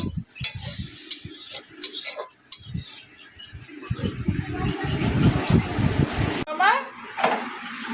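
A spatula scrapes and stirs lote fish with greens in a hot wok, clinking and rattling against the metal with a sizzling rush building in the middle, while someone talks over the cooking.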